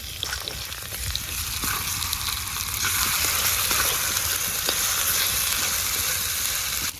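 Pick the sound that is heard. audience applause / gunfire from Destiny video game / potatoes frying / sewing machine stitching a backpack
potatoes frying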